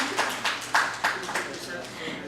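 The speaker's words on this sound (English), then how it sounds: "Please clap." Audience applause at a conference session, a few separate bursts of clapping over about two seconds, moderately loud, with no voice over it.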